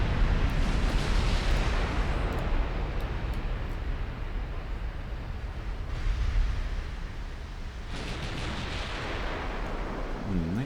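Battleship gunfire and shell hits in a naval video game, a dense roar of heavy cannon booms and rumbling impacts rolling continuously, with a couple of sharper salvos breaking through near the end.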